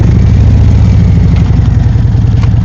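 A motorcycle engine runs loud and close at the start of a ride, a steady low, pulsing throb with no speech over it.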